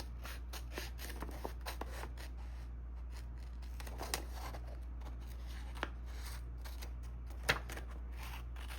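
Scissors cutting a window out of paper card for a handmade slider card, a run of short crisp snips and rustles over a steady low hum, with a sharper snip near the end.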